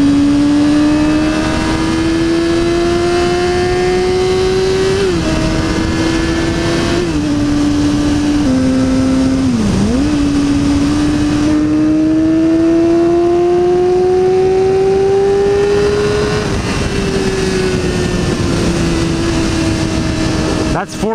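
A supermoto motorcycle engine drones steadily in fourth gear on a ride past icy mountains, its pitch rising and dipping slightly with throttle changes, loud and continuous with wind noise throughout.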